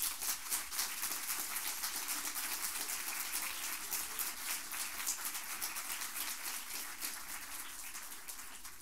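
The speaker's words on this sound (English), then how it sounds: "I really would like that you give them a huge applause" Audience applause at an evening tribute event, a continuous, fairly faint wash of many hands clapping that fades slightly toward the end, with no voices.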